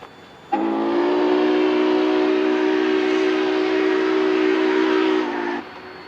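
Union Pacific 844 steam locomotive sounding a long, loud, sustained whistle as it passes the Keenbrook crossover, the steady tone holding for about five seconds before cutting off, with rumbling train noise underneath.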